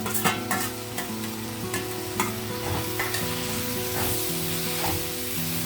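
Tomatoes with green chillies, coriander and curry leaves fry hard in a pan for a tomato and cashew curry, with a loud continuous sizzle. Quick stirring clatters repeat through it, close up, with no voices.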